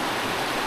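River water flows steadily near a lake area in the Philippines, a brief, continuous broadband rush with no pauses, moderately loud and even.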